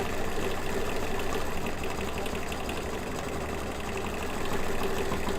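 An embroidery machine stitches a coaster in the hoop with a steady, rapid mechanical chatter that runs close and continuous throughout, without talk.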